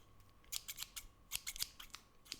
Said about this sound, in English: this is a pair of scissors in English